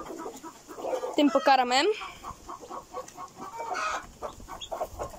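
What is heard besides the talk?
chickens clucking while being fed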